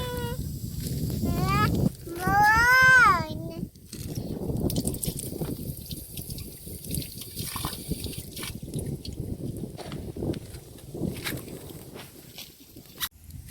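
Water runs steadily and goes to waste outdoors in a continuous rushing wash. Near the start a fowl gives a few warbling calls over it.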